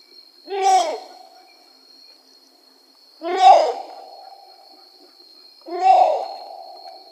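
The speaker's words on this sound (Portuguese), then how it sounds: "o Urutau gigante também costuma emitir essa vocalização" Three loud, close calls from a great potoo, each a harsh, rising-then-falling guttural bark trailing into a fading growl, spaced about two and a half seconds apart over a faint steady insect whine.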